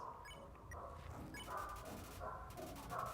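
A dog howls and yips with excitement during a livestream, its voice rising in short bursts over steady background noise and faint talk.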